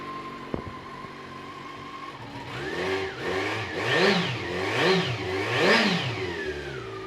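A 2017 Yamaha XJ600S Diversion motorcycle with 754 miles starts after a quiet moment, then revs in four rising and falling blips, close and fairly loud, with no talk.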